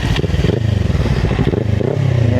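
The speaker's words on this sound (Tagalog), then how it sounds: "Ayan yung tunog ng ating muffler." Close by, a Kawasaki Ninja 400 motorcycle fitted with a JV Racing muffler idles and blips, its exhaust giving a loud, deep, pulsing burble with a brief rev.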